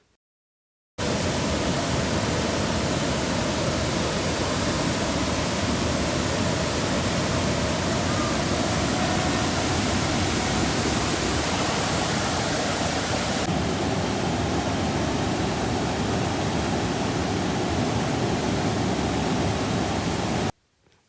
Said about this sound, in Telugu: ఈ వాటర్ ఫాల్స్ కిందకు వచ్చేసరికి కామ్ అయిపోయింది చూసారా ఆసేబుల్ రివర్ అంటారు దాన్ని